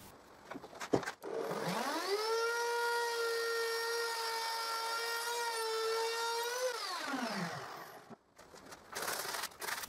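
A handheld router cuts tongue and groove joints along wooden floor planks, rising to a loud steady whine for about six seconds before winding down, with brief knocks and handling noise at either end.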